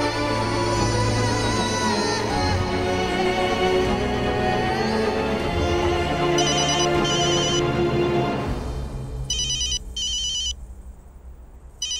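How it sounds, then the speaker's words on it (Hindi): A phone ringtone plays a repeating melodic pattern for about eight seconds, clear and moderately loud, then breaks into short electronic chirps as the ringing cuts off, with no speech. "कबीर का फोन इस वक्त।"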